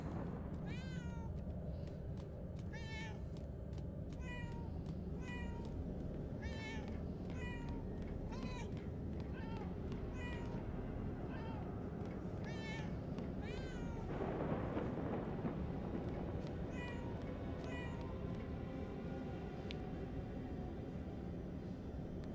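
Repeated cat meows inside the video game Murdered: Soul Suspect, a steady series of short calls over a constant ambient game background with a low rumble, and a louder swell partway through.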